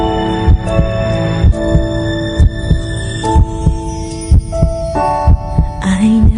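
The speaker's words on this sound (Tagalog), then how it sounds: "Bumibilis ang tibok ng puso mo." A heartbeat sound effect thumps in a steady, quickening rhythm of paired low beats beneath sustained humming musical tones, loud and close with no speech.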